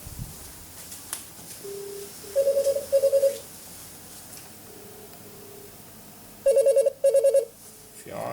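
A handset on a Yeastar S50 PBX dials extension 110, giving short keypad tones, then two bursts of double electronic ringing, close and clear over a quiet hiss.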